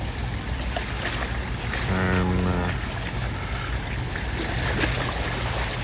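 A pontoon boat's single outboard motor drones steadily beside wind and lapping water, with a brief harmonic engine whine rising for a moment midway.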